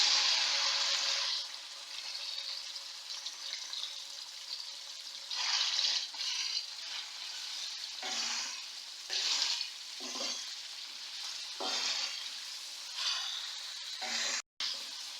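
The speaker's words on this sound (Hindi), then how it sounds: "तो ऑयल में मैं इसको फ्राई कर लूँगी अच्छी तरह" Boneless chicken fries in about a cup of hot oil with a bright, hissing sizzle that surges and fades in bursts as it is stirred, close and loud with no talk.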